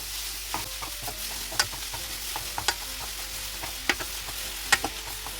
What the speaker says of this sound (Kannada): ಈ ಥರ ಫ್ರೈ ಮಾಡ್ಕೋಬೇಕು ಸ್ವಲ್ಪ ಹೈ ಫ್ಲೇಮ್ ಇಟ್ಕೊಂಡೆ ಫ್ರೈ ಮಾಡ್ಕೊಳ್ಳಿ